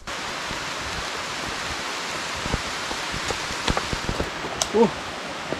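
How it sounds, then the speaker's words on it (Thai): Steady, dense rain hisses throughout in a forest, with scattered louder drops and patters standing out nearby toward the end. "แต่ฝนตกหนักมากๆเลย"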